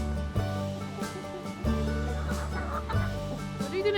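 Chickens cluck in short, repeated bursts over a steady low hum, with a few louder squawks that rise and fall close by.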